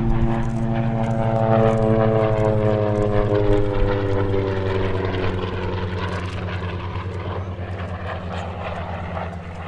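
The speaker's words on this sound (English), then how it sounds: "It's a photo pass of the SB2C Helldiver." An SB2C Helldiver piston-engined propeller warbird makes a low photo pass at an airshow, its loud droning engine note holding strong and steady, then slowly fading as it moves away, with no talk over it.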